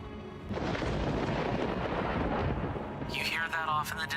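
A rumbling storm in the video game Elden Ring, a broad continuous roar that swells in and holds steady at moderate loudness, with a voice speaking over it near the end.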